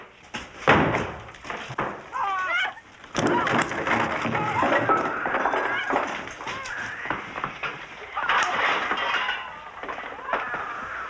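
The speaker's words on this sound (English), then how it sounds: "Go, break the door." A door is broken down in a wartime building search, with loud heavy slams and crunching impacts, alongside shouting voices and background commotion.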